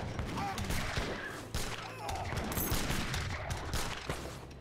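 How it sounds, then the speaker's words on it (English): A structure in the Age of Empires 3 video game fires away amid a busy battle, with dense, overlapping gunfire crackling continuously and loudly under a mix of other combat noise. "Structure is firing away"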